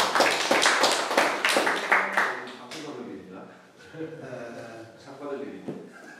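A small audience at a lecture claps for a photographer, a quick burst of close, sharp handclaps that fades after a few seconds as people begin talking.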